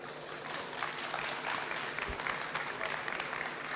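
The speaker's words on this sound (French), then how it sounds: "Je vais vous demander de les applaudir." Sustained applause from an audience at the Natexpo 2024 trophy ceremony, a steady dense wash of clapping that holds at an even level throughout with some voices mixed in.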